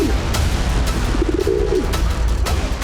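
A pigeon coos softly in a remote snowy Himalayan cave above 12,000 feet in Uttarakhand, a short low warbling call over a steady rumbling background with a few sharp knocks.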